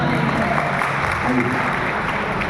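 Loud, steady audience applause at a seminar in Banaras, a dense wash of many hands clapping continuously through the whole stretch.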